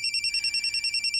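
A phone rings with an incoming call, a bright electronic ringtone repeating in a quick, even pulse throughout. It is close and clear, with no voices.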